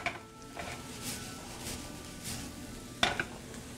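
Shallots sautéing in a pan with chorizo, a faint steady sizzle broken by a few utensil scrapes and a sharp metallic clink near the end.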